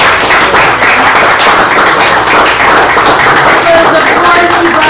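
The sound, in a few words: audience round of applause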